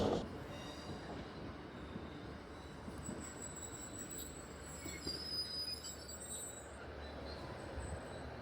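A Scotrail Class 156 diesel train pulls into a station, heard faintly from a distance as a steady low rumble under high, thin wheel squeals.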